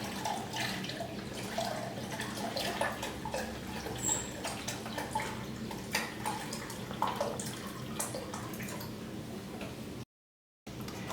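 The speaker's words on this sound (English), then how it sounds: "So I got to put in 3 cups of broth." Bone broth pours steadily into a cooking pot for jambalaya, a continuous liquid splash and trickle heard close up with no talking.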